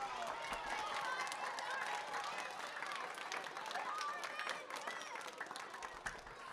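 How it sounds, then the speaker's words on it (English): An audience at a school anti-bullying presentation by a sheriff claps to thank a sergeant. The clapping is quiet and fairly distant, a steady patter that continues throughout. "Can all of you do a clapping as a thank you for Sergeant?"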